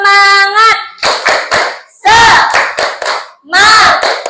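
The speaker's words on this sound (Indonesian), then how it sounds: "Tepuk semangat." A class of children claps in quick rhythmic bursts, the patterned claps mixed with loud young voices chanting along between them.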